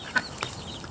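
Chickens cluck in two short, soft bursts a short distance off, with quiet background noise between them at a farmyard banana feeding.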